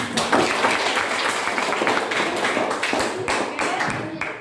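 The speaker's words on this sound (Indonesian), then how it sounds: "Mari kita berikan tepuk tangan." Audience applause, close and loud, with dense clapping in uneven surges and a few brief voices mixed in.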